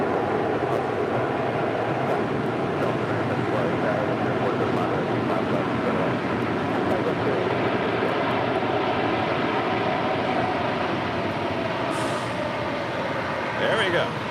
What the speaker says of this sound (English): Polar Air Cargo 747-8 coming in from Anchorage, touching down on 25 left